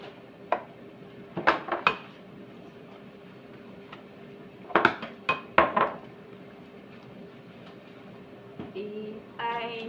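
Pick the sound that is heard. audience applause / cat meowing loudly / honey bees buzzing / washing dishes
washing dishes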